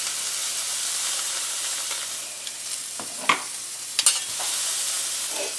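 Steak sears in a hot pan with a constant, close sizzle and hiss, broken by a few sharp spits and pops near the end; no one speaks.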